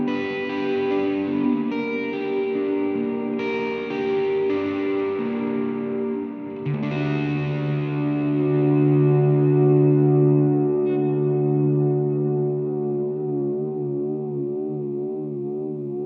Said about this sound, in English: in dark and rise modes, you have to hold it down, and that's going to ramp up the reverb trail